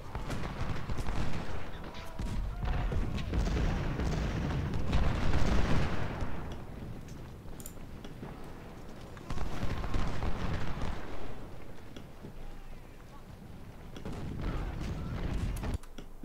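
Cannons firing in the video game Ultimate General: Civil War at 2nd Bull Run, a series of heavy booming volleys in several clusters, with rumbling tails between bursts.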